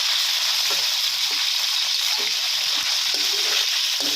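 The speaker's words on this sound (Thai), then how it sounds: "นำไก่ลงไปทอดนะครับเพื่อน ทอดให้สุกเลยนะครับ" Marinated chicken sizzling in hot oil in a pan, a continuous crackling hiss with occasional louder pops, steady and close.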